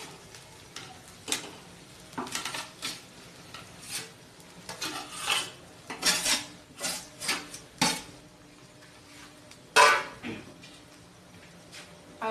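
Potatoes mixed into roasted peas in a pan for aloo matar kachori filling, with intermittent scraping and clinking of a spoon against the pan in uneven bursts over a quiet background.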